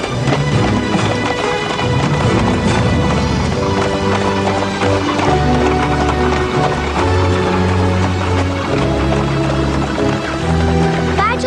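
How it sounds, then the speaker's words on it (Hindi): Horses' hooves clip-clop steadily under a busy soundtrack of music and effects as horses set off in a 1996 Cinderella television drama, dubbed in Hindi. "जल्दी मेरे घोड़े तैयार करो।"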